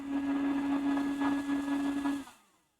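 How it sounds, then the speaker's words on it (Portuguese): A kitchen blender motor whirs steadily with a strong constant hum for about two seconds, then winds down and stops, leaving near silence. "Então, copo aí do liquidificador. Perdoe-me pelo barulho."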